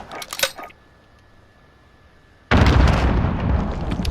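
A spawn tube launcher fires in Modern Warfare, first with a brief burst and then, after a quiet gap, a sudden loud blast that holds as a dense roar to the end.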